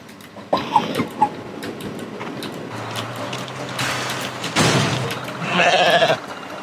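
A goat in a video game bleats a few times amid game noise and rumbling effects, with a sharp crash-like burst near the end.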